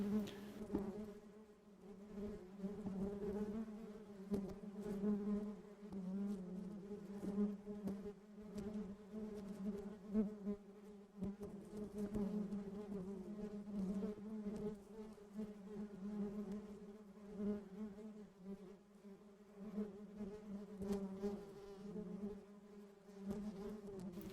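Honeybees swarm around an opened beehive after two hives were combined into one, their dense, continuous droning buzz rising and falling steadily and close by, with no talking.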